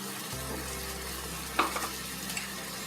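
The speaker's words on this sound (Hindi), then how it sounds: "गैस में सॉस पैन रख दिया है, पानी उबल रहा है।" Water with tomatoes boils in a saucepan on a gas stove, soft bubbling and sizzling, with a brief clink partway through; quiet and close, no voices.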